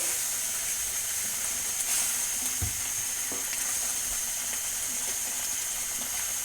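Chicken kofta curry masala gravy sizzling steadily in a pan, a continuous close frying hiss with occasional faint stirring clinks and pops, no voices.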